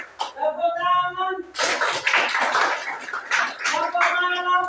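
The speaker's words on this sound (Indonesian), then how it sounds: "Tepuk tangan." Students clapping hands together in a classroom drill, a dense burst of claps lasting about three seconds, set between stretches of a teacher's talking.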